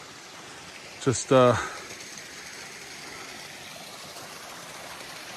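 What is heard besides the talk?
small waterfall stream in woods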